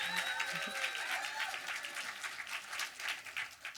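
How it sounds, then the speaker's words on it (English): Audience applause at a student film restoration screening event, a moderate wash of clapping from a crowd that holds fairly steady and tapers slightly, with faint tonal sounds near the start. "We can definitely give them a round of applause"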